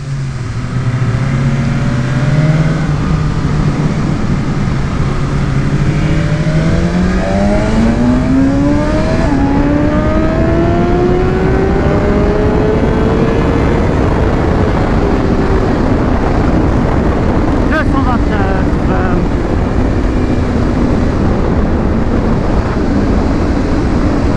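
Motorcycle ridden hard around a race circuit on a track day, with a loud engine note rising and falling in pitch through gear changes and corners under steady wind rush.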